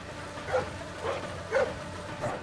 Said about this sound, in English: You can bark all you want, you can't climb, can you, dog?